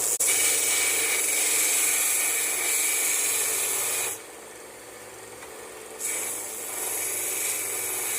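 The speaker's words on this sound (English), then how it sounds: "I'm going to take this to the sander and clean it up even further. And today I'm going to be using this Vevor belt sander to do so." A Vevor belt sander cleans up a home brass casting with a continuous loud abrasive rasping hiss that drops away for about two seconds before the grinding resumes.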